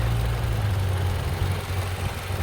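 A 2014 Toyota Camry engine runs at a heavy, rough idle, a steady low droning rumble with a shaking vibration that holds close and loud throughout, with no talk.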